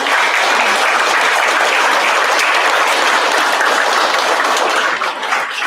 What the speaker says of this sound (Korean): 여러분들께 감사의 박수를 제안드리고자 합니다